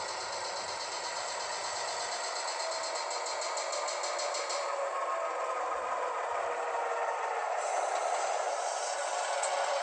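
Model railroad trains shuffling through a staging yard during switching, a steady mechanical whir and faint rattle of small motors and wheels running continuously at low volume, with no talk.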